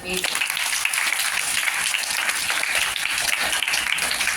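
Audience applause for a student at a school birthday celebration event, steady crowd clapping that holds at a loud, even level throughout.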